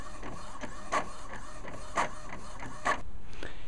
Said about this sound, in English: Look up some pictures of stuff you want to have happen and print them out.